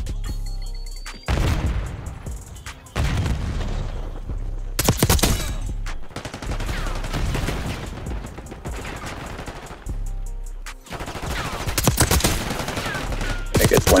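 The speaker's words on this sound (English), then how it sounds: "HBT is taking fire." Dense gunfire in the Black Ops 6 video game: rapid automatic bursts and heavy booms pound almost continuously, with brief lulls between volleys.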